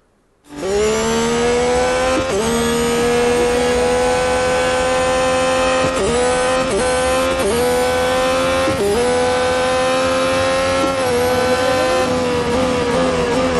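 An F1 race car engine in Real Racing 3 screams at high revs almost throughout, with rapid gear-shift dips and re-climbs, loud and close after a brief quiet start.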